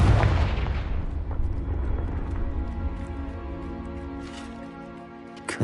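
A Confringo explosive spell bursts in the video game Hogwarts Legacy, opening with a heavy booming blast that rolls off into a long fading rumble, with a smaller crackle near the end.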